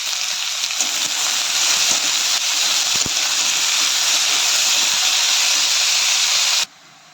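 Potatoes fry in a pan with turmeric and salt, giving a loud, even hiss that holds steady for several seconds with faint crackles, then cuts off abruptly.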